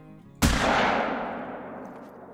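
A single loud rifle shot rings out in a pronghorn hunting game, a sharp close crack followed by a long rolling echo that fades over about two seconds.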